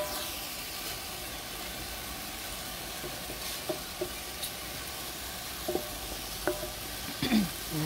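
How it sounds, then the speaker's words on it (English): Food for pelau sizzles steadily in hot oil in a pot, a constant close crackle with a few scraping stirs near the end. "frying it down"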